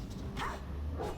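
A dog barks in the online role-playing game TERA, giving two short, moderately loud yelps about half a second apart over a low steady background hum.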